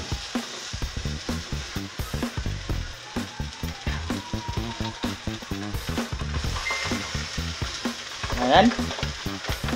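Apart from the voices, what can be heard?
milkfish (bangus) frying in a pan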